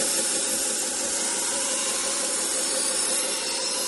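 A 1x30 belt sander used as a knife sharpener runs steadily at close range, a continuous broadband abrasive whir with no pauses or spoken voices.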